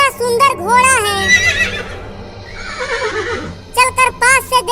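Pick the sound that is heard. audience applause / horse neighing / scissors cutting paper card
horse neighing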